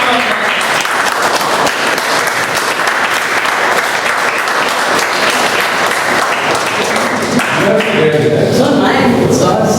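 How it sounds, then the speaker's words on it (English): An audience at a Toastmasters club meeting in Bombay breaks into dense, sustained applause, loud and close, many hands clapping steadily throughout with voices mixing in toward the end. "Big round of applause."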